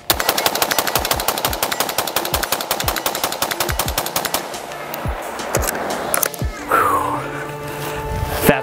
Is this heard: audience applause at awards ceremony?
no